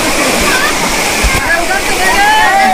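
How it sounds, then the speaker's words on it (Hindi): Strong, fast-moving floodwater churning and sloshing in a flooded Bhagalpur village in Bihar, a loud continuous rushing roar close by, with someone talking over it throughout. "इतनी लहरें तेज हैं यहाँ पे, यहाँ देखिए"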